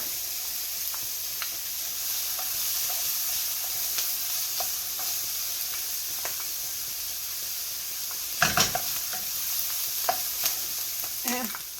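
Garlic sizzles in a hot frying pan with onions being cooked down for a creamy mushroom sauce, a steady close hiss broken by clattering stirs and a louder crackling burst near the end.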